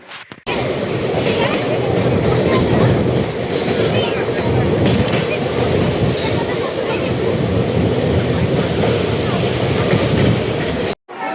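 A train rumbles steadily along near Rampurhat with a continuous loud roar and faint rattling, heard from inside the carriage with muffled voices in the background.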